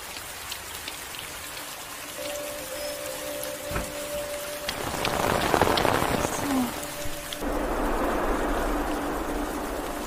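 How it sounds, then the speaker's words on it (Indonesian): Steady night rain patters and hisses on surfaces, growing heavier midway, with a faint tone running underneath. "hujan yang turun malam itu"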